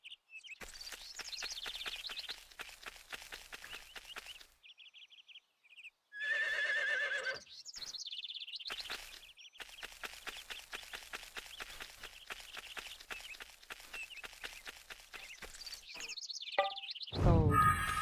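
In the video game Blue Dragon, the King's Horse walks with a steady run of quick clip-clop hoofbeats, broken by a short pause and a bright whinny midway, then a final sharp cry.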